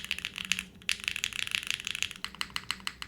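Rapid, crisp clacking of keys typed on a TKD Cycle8 mechanical keyboard fitted with bean gaskets, an uneven burst of punchy strikes close up that pauses briefly before carrying on.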